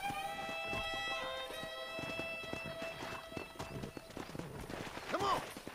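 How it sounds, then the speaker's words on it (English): Horses in Red Dead Redemption clip-clop along at a steady walking gait with a neigh near the end, while a continuous musical tone plays in the background. "Let's see if we can't wrangle some horses."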